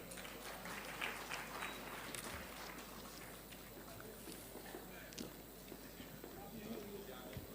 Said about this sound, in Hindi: सभी तालियों से बच्ची का उत्साहवर्धन करेंगे।